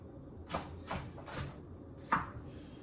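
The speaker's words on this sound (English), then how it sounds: "Once I get the onions cut up" Onions are chopped with a knife on a cutting board, four distinct close chops spaced unevenly, the last one louder, over quiet room background.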